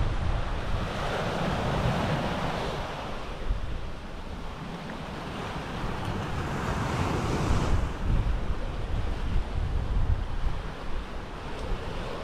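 Ocean surf at a beach in Arraial do Cabo, a continuous wash of breaking waves with steady wind rumbling against the microphone, close and fairly loud, with no voices.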